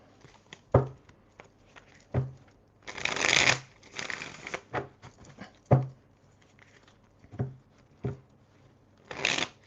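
Tarot cards being shuffled and handled during a reading, with repeated soft riffling bursts and light slaps of cards landing, close by and without talk.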